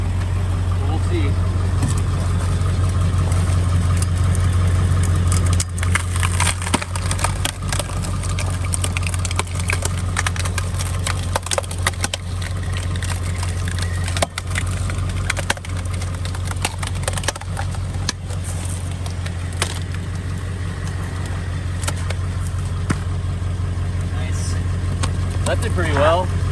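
A truck engine runs steadily while powering a log splitter through a piece of hardwood, giving a loud, continuous low drone with slight load changes and some faint talk in the background.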